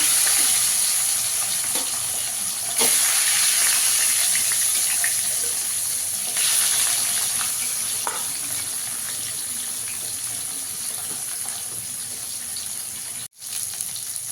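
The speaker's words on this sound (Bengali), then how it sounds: "এখানে আমি কড়াইতে তেল দিয়ে দিয়েছি, মাছটাকে একটু লাল লাল করে ভেজে নেব।" Fish frying in oil in a kadai wok, a continuous loud hissing sizzle throughout with occasional spatter bursts and a short dropout near the end.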